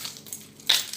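Keys picked up from a surface give one short, close metallic rattle and clink near the end of a brief moment of quiet room tone, with no voices.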